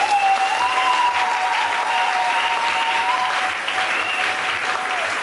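A church congregation of young women applauds in steady, dense clapping that runs the whole time. A sustained high tone, likely a keyboard or singing, rises above it.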